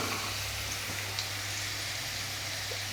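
Three cloves of finely chopped garlic frying in a pan, giving off a soft, even sizzle that hisses steadily and fairly quietly throughout, with no talking.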